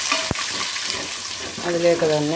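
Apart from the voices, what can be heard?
sautéing onion and green chilies for lemon rice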